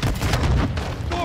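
Gunfire in Call of Duty: Modern Warfare II during an Infected match, a dense, loud burst of booming shots that runs through the whole moment, with a brief whistling tone at the end.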